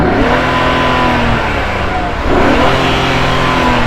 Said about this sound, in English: Let's come to the latest one, the 400Z. So go on, rev this up.